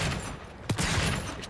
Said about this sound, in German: Die Schüsse fliegen nach unten und langsamer